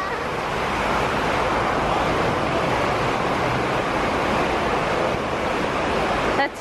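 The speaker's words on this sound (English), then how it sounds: "It is pouring rain outside." Heavy rain pours down outside a Walmart, a dense, steady wash of broadband hiss that stays loud and unbroken throughout with no talk over it.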